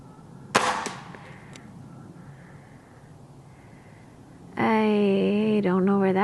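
A single sharp crack from an Air Venturi Avenge-X Tactical .25 air rifle fired at a target, its ring fading quickly, followed by a stretch of quiet and then a person speaking.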